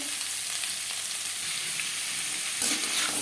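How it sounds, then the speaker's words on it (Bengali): Papaya and vegetable stalks stir and fry in a pan for a Bengali vegetarian curry, a steady close sizzle throughout with a brief louder clatter of stirring near the end. "পেঁপের সাথে ডাটা বেশ ভালো করে মিক্স করে দেবো"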